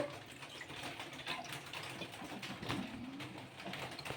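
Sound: water poured into wheat semolina batter

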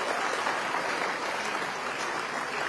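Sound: applause for gold medal winners at a university convocation

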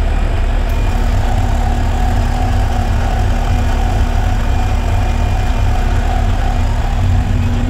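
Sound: refrigerant recovery pump running

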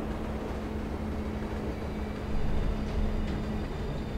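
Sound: train passing in video game Call of Duty: Ghosts

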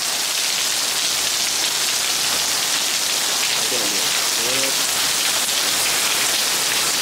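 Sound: heavy rain falling on balcony

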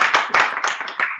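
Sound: applause in online team meeting

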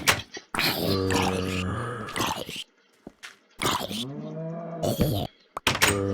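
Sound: cows mooing in video game

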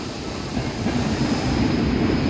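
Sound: DRS train 88004, intermodal service from Daventry to Mossend

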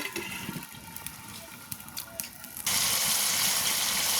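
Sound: water poured into pigeon meat cooking in a pan

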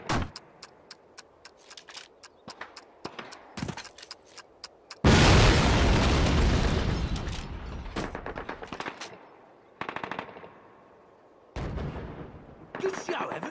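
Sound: explosion blowing up a flak gun in the video game Call of Duty

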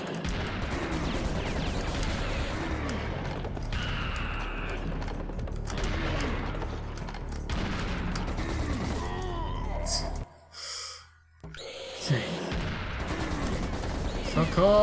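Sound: gunfire from the video game Serious Sam

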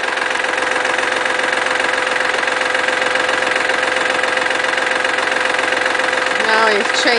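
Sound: tractor engine idling during haying

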